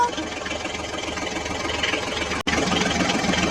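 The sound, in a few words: toy John Deere tractor engine driving on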